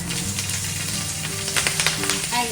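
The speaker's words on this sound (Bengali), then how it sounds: "দিয়ে দেবো অল্প একটু সর্ষের তেল কালো জিরে দিয়ে দিলাম কালো জিরে আর কয়েকটা কাঁচা লঙ্কা" Black cumin seeds and green chilies crackle and sizzle in hot mustard oil, a steady frying hiss with sharp pops and spatters that grow busier toward the end.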